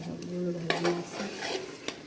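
A spoon stirs puran made with jaggery in a pan, giving soft scraping with a couple of sharp clinks against the metal, quiet and close.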